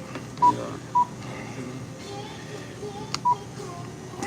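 At a store checkout, someone enters a phone number on a keypad, producing several short electronic beeps spaced irregularly over a few seconds. Quiet shop background noise runs underneath.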